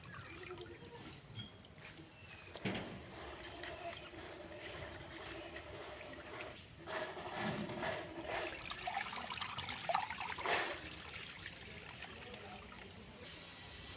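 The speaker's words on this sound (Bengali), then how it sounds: "এই দেখো শাক ধুয়ে নিচ্ছি, লাল শাক" Red amaranth leaves are washed by hand in water, with soft sloshing, splashing and trickling close by, scattered knocks against a container and a couple of louder swishes.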